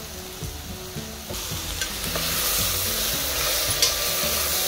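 Soaked chana dal goes into a hot pan and sizzles, the frying hiss swelling after a few clinks and stirring scrapes, moderately close.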